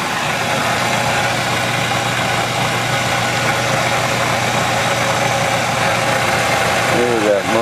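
A 1/2 hp electric motor belt-driving a Maxflow 3-phase alternator hums with a steady, loud mechanical drone and a low constant tone, running evenly throughout with a faint voice near the end.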